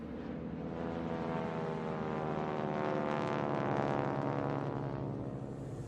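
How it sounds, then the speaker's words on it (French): Droning propeller airplanes from 1940 pass low overhead, a steady, heavy hum swelling slightly louder midway before easing off. "Des avions, ils volent très bas"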